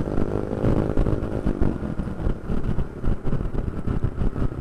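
Motorcycles with loud modified exhausts rumble and rev close by on a touring ride through Lumajang's Piket Nol mountain road, a rough, throbbing engine roar with uneven bursts and no voices.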